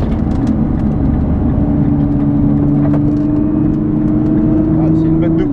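A Nissan GT-R engine pulls hard under acceleration, heard from inside the car as a loud, steady drone with rising whine and road roar, while occupants talk over it.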